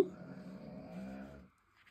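A small shih tzu dog snores softly and steadily, a low rasping drone that fades out near the end.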